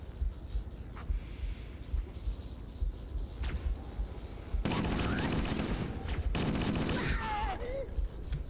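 Gunfire rattles in a zombie video game, first as scattered faint shots under a busy background, then in dense, loud bursts of rapid fire during the second half.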